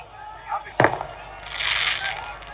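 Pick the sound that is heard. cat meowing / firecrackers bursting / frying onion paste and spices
firecrackers bursting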